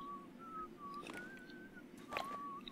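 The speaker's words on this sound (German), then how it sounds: "Da pfeift wieder jemand" A faint, thin whistled tune drifts through a quiet scene in the video game Sniper Ghost Warrior 2, a few wavering held notes with brief gaps, distant and soft over low ambient background.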